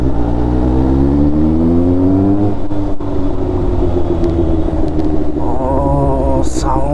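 Kawasaki Ninja H2 motorcycle engine revving up strongly, its pitch climbing steadily before dropping and settling into a loud, continuous rumble, then rising again near the end; close and dominant, with no clear talk over it.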